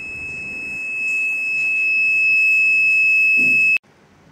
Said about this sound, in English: a light signal and a alarm signal will be turned on and you will be notified.